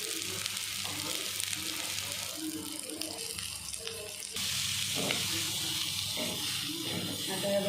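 Onion and vegetables dropped into a pan of roasted ginger, garlic, chili and pigeon pea pods for cauliflower paratha filling, sizzling steadily with a louder burst of frying partway through, close up, with no talk.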